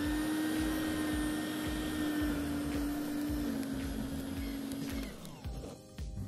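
A Sun Joe scarifier power rake runs on a lawn with a loud, steady motor whine close by, then its pitch drops and it winds down near the end.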